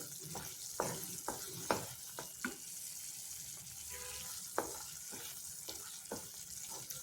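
Badam halwa cooking in ghee in a pan, a soft steady sizzle with intermittent scraping stir strokes and occasional clinks of the spoon against the pan.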